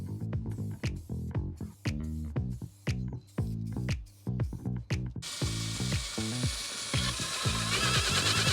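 Spray paint hisses in a steady, close, continuous burst as another coat goes onto Land Rover Defender brake calipers, following a stretch of music at the start.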